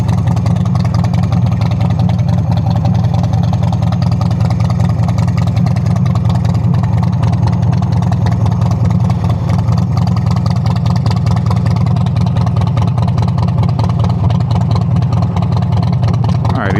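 A chopper motorcycle engine idles with the choke pulled out, a loud, steady, close rumble that holds evenly throughout without revving.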